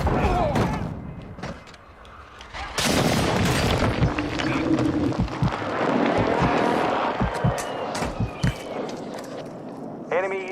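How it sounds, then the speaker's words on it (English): Airstrike explosions in the Call of Duty video game: a run of deep booms and thuds lands in quick succession midway, set against busy battlefield game sound and gunfire. "Hostile airstrike incoming."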